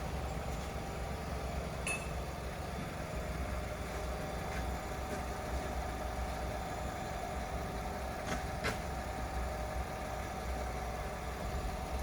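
A Nissan engine with a damaged exhaust idles steadily with a constant low rumble and drone, plus a couple of faint ticks, and no voices.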